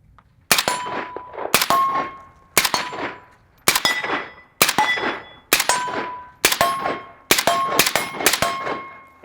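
A PTR 32 rifle firing at steel targets, with eight evenly spaced loud shots that each ring out with a metallic clang and decaying ring, close and clear with no talking.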